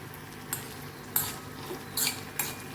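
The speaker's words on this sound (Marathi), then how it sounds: "पहिल्यांदा मी बदाम टाकून घेते बदाम त्यानंतर काजू हे थोडेसे आपण परतून घेऊ" Almonds and cashews roast in a pan for pumpkin halwa, with a few clinking spoon stirs against the metal over a soft background sizzle, no voices.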